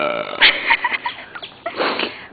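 A person burping randomly: a close, loud series of short, throaty burps in an uneven rhythm, one after another, with no clear speech.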